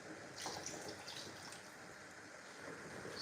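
Water pours into a pot of red pepper sauce, a continuous soft splashing gush that holds steady for a few seconds without any talk.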